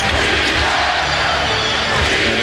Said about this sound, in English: the crowd's still very much into it, still chanting defense